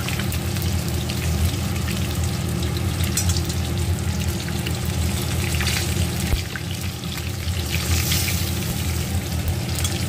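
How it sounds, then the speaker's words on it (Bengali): Rohu fish pieces frying in hot oil make a loud, continuous, dense sizzle that stays close and even throughout, with no voices. "আর এক সাইড একটু লাল করে ভেজে নেব"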